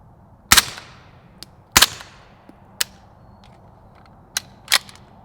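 Five suppressed pistol-caliber shots from a Liberty Mystic X suppressor on a Zenith ZF5 firing 158 grain Fiocchi ammunition, sharp cracks fired irregularly, two early ones strongest, with no talk.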